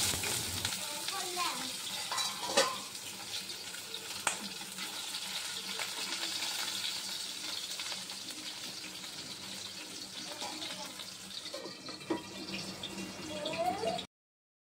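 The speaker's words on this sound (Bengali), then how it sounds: "এবার শুধু মাছটা ভেজে নেব মেয়ের জন্য।" Fish coated in salt and turmeric fries in hot oil in a wok, a steady close sizzle with occasional scraping and clinks.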